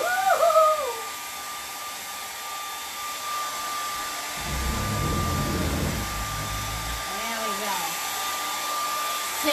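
A hair dryer blowing across a painted canvas, a steady airy whir running the whole time at moderate loudness, with a few faint whistling tones near the start and end.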